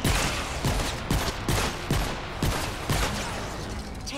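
Rapid, repeated gunfire from a basic starter weapon in the Fortnite video game, with about eight sharp, loud shots fired at a steady rhythm across a busy game soundscape.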